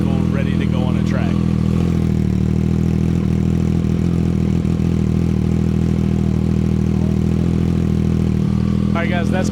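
A Triumph Street Triple motorcycle with an SC Project exhaust idles steadily and evenly after a cold start, a continuous low rumble with no revving throughout.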